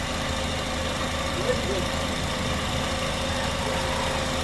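A Honda Accord engine, recently replaced after failing, idles with a steady, even hum and faint mechanical vibration, unchanging throughout with no other sounds standing out.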